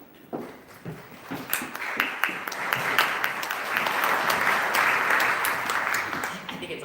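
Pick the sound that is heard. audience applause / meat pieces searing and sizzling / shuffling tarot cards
audience applause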